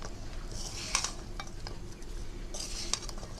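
Shuti, crisp puffed-rice bites, stirred in thickening sugar syrup in a pot, giving soft scraping and occasional light metallic clinks of the spoon against the pot, steady and close with no talk.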